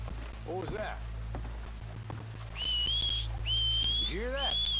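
Human whistling in Red Dead Redemption, used to draw enemies out: two long, high, level whistles, fairly loud over steady rain and a low background hum, with brief voices speaking around them.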